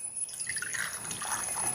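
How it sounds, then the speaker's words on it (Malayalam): A small amount of water poured over a lime-sized piece of tamarind in a home kitchen, a soft, faint trickling and dripping with no talking. "അത് നമുക്കിതാ കുറച്ച് വെള്ളം ഒഴിച്ച്"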